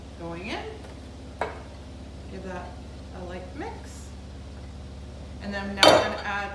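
Pecans being stirred into a baked oatmeal mixture in a bowl, soft scraping and clinking of a utensil with a louder clatter near the end, all under a person talking.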